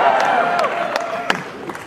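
A crowd at a motivational event applauds and cheers loudly, with clapping bursts under sustained shouting voices.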